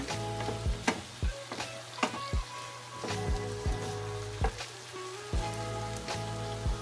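Chicken liver and gizzard adobo frying in a pan make a close, steady sizzle, broken by repeated sharp pops and spatters in an uneven rhythm.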